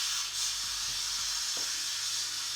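A Crockpot Express pressure cooker releasing steam through its spout, a loud, steady, close hiss throughout with faint clicks and knocks underneath.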